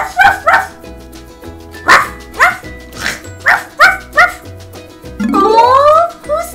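A puppy barks close up in a string of about eight short, sharp yips at an uneven pace, then gives a longer rising whine at the end, over a faint low background hum.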